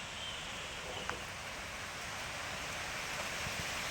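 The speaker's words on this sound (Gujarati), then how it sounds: "જો દોસ્તો વરસાદ દૂરથી આવી રહ્યો છે, તેનો અવાજ સંભળાઈ રહ્યો છે" Distant rain approaching makes a faint, even hiss like far-off rustling, steady and soft throughout with no voices.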